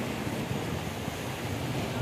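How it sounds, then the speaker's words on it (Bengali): Sea waves wash onto a beach on a rainy morning, a steady soft roar of surf mixed with wind buffeting, moderately faint and continuous with no voices. "আর সাগর পাড়ে এরকম সাগরের ঢেউ দেখব।"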